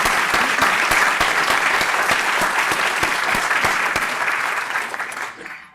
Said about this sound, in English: we're going to applaud you again